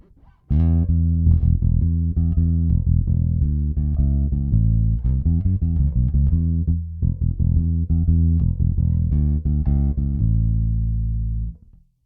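An Ibanez Promethean P5110 bass guitar plays a run of punchy, sustained notes alone in a modern rock tone, thick and bright-edged with steady loudness.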